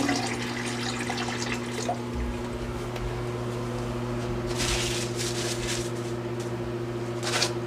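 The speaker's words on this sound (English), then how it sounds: "You must now rinse your graduate." Water runs into a graduated measuring container being rinsed at a sink, a steady wash of flow over low steady hum, with brief louder splashing bursts near the middle and end.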